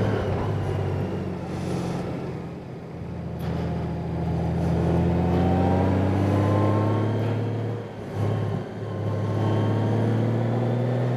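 A 2018 Honda Goldwing motorcycle engine holds a steady drone in third gear on a winding mountain road, loud and close throughout, with a brief dip in pitch and level near the end before it settles back.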